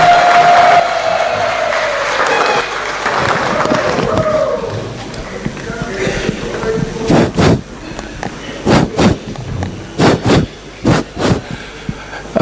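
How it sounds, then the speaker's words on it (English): An audience at a book launch in Mutare on AI and the Global South applauds loudly and steadily at first, then the clapping thins into a few sharp, separate claps. "Another round of applause, please."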